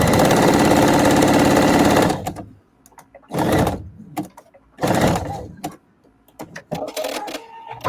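A sewing machine runs fast while stitching a fabric cozy, one long loud burst followed by several shorter bursts separated by brief pauses, close up.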